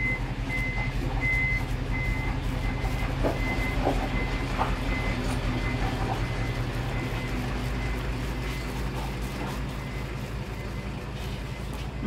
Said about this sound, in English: please excuse the truck noises.